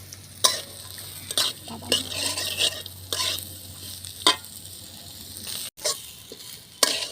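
Cumin, potatoes and raisins fry in a pan for prawn pulao, with repeated sharp spatula stirs and scrapes punctuating a soft, steady sizzle.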